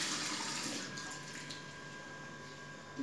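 Water runs steadily from a tap with a constant hiss that fades a little toward the end, close by and alone.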